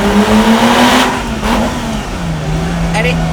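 A Lamborghini Miura SV's engine revs around 4,000 RPM with a steady mid-pitched drone that rises slightly then eases, loud and close, with a voice talking over it.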